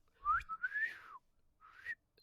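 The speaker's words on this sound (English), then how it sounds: "Bruce whistles to get his attention." A person whistles a few rising and gliding notes to get someone's attention, close and clear in a quiet room, one long sweeping phrase followed by a short pause and a second brief whistle.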